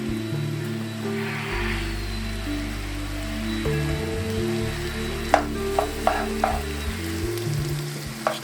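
Cream is stirred into macaroni and shrimp cooking in one pot, with a steady sizzle and bubbling, a spoon scraping and clinking several times against the pot.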